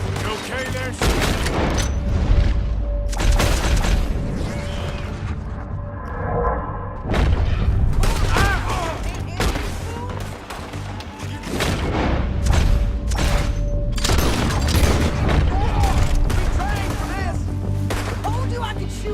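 A gunfight in Red Dead Redemption 2 fills the scene with loud, rapid gunshots and booming reports in dense volleys, broken by a brief lull, while voices talk over the shooting.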